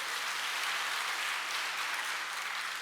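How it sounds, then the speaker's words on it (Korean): Church congregation applauding together during a worship service, a steady, dense wash of clapping that holds at even loudness throughout with no voices on top. "할렐루야, 박수 한번 듭시다."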